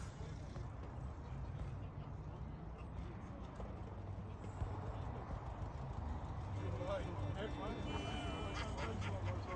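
Several horses walk nearby at a bushcraft camp in Tunbridge, their hooves clopping steadily over constant outdoor background noise while people talk.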